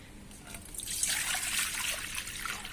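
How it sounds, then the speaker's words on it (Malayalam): Water is poured into an old, unused flat dish, starting as a faint trickle and swelling into a bright, steady splashing stream close by. "വെള്ളം ഒഴിച്ചു കൊടുക്കാം"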